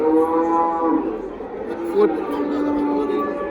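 Cattle at the Parkent livestock market near Tashkent moo in long, drawn-out calls, several overlapping lows carrying over a busy crowd with people talking nearby.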